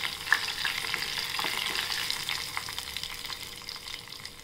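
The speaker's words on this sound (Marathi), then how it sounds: "छान हलवून घेऊ." Poha, beaten rice with red chili, gets stirred in a pan, a soft continuous sizzle and frying hiss with light scraping strokes, close and even, and no one talking.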